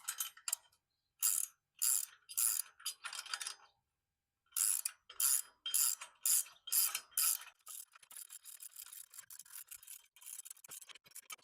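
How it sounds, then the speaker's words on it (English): A small ratcheting wrench tightens bolts on an old utility trailer, giving crisp, close clicking in quick repeated strokes with short pauses between bursts, then a denser run of ratchet clicks at the end. "Now I'll switch to my wrench here, my little ratcheting wrench."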